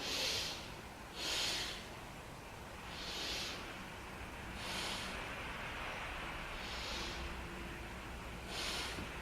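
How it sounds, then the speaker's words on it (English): Deep belly breaths taken while holding yoga locust pose, a series of soft, breathy airflow swells, several slow in-and-out cycles, faint and close against a low background hiss. "Take 3 breaths down to the belly."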